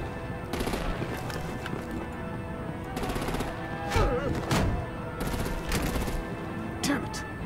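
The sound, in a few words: gunfire from a video game shootout, Batman Telltale Series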